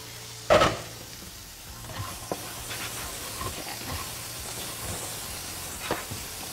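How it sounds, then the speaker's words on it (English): Already-cooked turkey sausage reheating in a frying pan gives a soft, steady sizzle with light hiss, punctuated by a sharp scrape or clatter early on and small stirring knocks. "And the turkey sausage was already cooked. I'm just reheating it."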